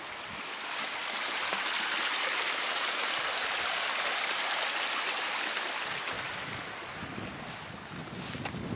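Steady rushing water flows continuously, a soft broadband hiss like a small stream passing under a small footbridge, with no voices, on the Manistee River Trail in Michigan.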